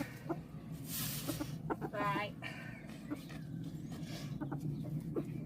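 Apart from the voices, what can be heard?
chicken clucking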